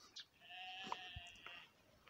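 A sheep or lamb gives one drawn-out, wavering bleat outdoors near a chapel around Dolní Věstonice and Nové Mlýny. It sounds at moderate distance, with a few soft knocks and thumps in the quiet rural air.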